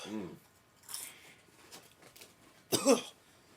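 A few short, harsh coughs from eating strong chips, one at the start and a louder burst near the end, with quiet breathy sounds in between.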